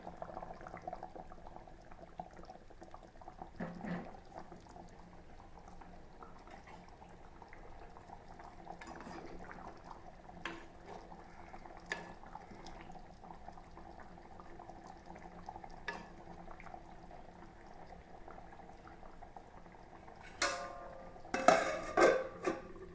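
Low, steady bubbling of fish curry simmering in a pot on the stove, with a few faint clinks and a louder clatter of a spoon near the end.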